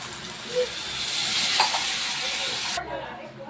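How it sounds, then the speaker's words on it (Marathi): Water is poured into a hot pan of soaked mung beans, soybeans and rice and sets off a loud, close, continuous sizzle and hiss that stops abruptly near the end. "आणि आता आपण पाणी टाकूया।"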